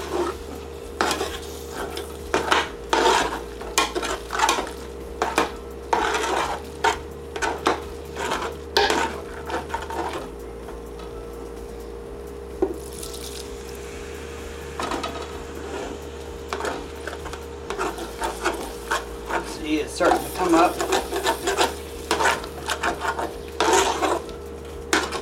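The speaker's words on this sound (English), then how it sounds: "we're going to add in a little bit of our vegetable stock to help try to bring that up and loosen that up there" A spoon stirs and scrapes the bottom of a pan as vegetable stock deglazes it for vegan beef stroganoff, with rhythmic scraping strokes over a soft steady sizzle, close and alone.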